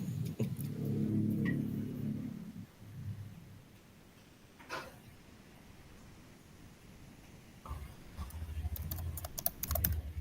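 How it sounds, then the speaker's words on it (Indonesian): Soft, rapid keyboard typing clicks out in a quiet room during a school facilitation session, faint and irregular, with a few louder low thumps and bumps around them and no voices. "Ini sudah mulai ada suara-suara mengetik kayak mesin tik."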